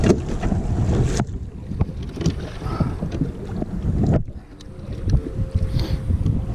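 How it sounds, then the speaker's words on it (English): A small fishing boat on Lake Sonoma along the dam in a windstorm takes a steady pounding of waves against the hull. Loud wind buffets the microphone throughout, with choppy water slapping close by. "Getting hit by the waves."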